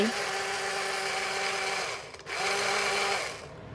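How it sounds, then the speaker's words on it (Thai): A small cordless blender motor whirs steadily, briefly dipping in the middle before resuming its even, buzzing drone. "ชอบมากๆเลยเครื่องปั่นตัวนี้นะคะ มันไร้สาย"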